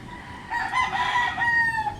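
A rooster crows once near an area of birds and flowers, a clear drawn-out call rising then held and falling, loud and alone against quiet background.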